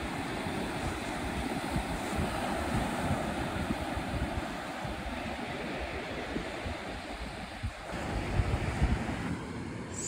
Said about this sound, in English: The waves are gorgeous today.